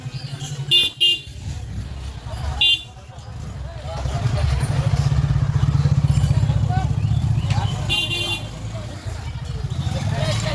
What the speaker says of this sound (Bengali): সবাই বন্ধুরা বাইক নিয়ে যাচ্ছে